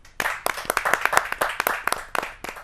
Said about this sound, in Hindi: आपकी तालियां मिले इस देश के लाडले कवि को, डॉक्टर जयप्रकाश मिश्रा जी।